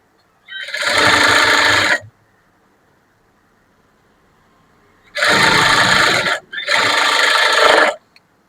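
A sewing machine stitching the front part of a blouse, three loud close whirring runs of about one and a half seconds each, the last two nearly back to back, separated by near silence and without talking.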